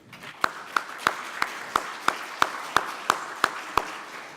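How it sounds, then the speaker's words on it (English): A few people clapping in a slow, evenly spaced rhythm of about ten sharp claps, fairly faint, in a conference session hall. "I would kindly ask you to give a warm applause to the translators"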